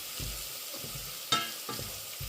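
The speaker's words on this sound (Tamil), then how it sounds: "நல்லா பொன்னிறமாக வந்துட்டது வெங்காயம் எல்லாம் நல்லா வதங்கி" Onions with ground ginger-garlic paste frying in a pan for crab curry, a soft continuous sizzle with a few low stirring thumps and one bright scrape of a utensil, close but quiet and without speech.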